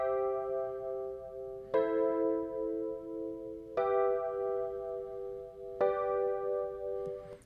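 Chords from a song's progression are played alone on an instrument: four separate strikes about two seconds apart, each ringing out cleanly before the next.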